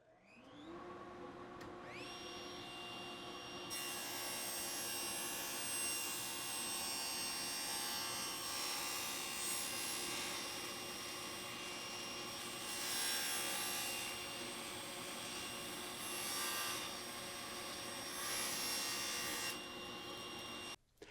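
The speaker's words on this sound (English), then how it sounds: "when I push this wood through, I want to show you the kickback" A table saw spins up and cuts through wood with no guard fitted, a steady loud whine and grinding rasp lasting many seconds, rising and falling as the board is pushed through before the motor cuts off.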